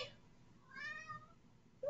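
A pet cat lets out a faint meow at the start, then a longer, drawn-out meow in a quiet room, followed by a short higher cry at the very end.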